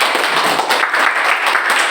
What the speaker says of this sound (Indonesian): kita berikan tepuk tangan untuk kelompok 1.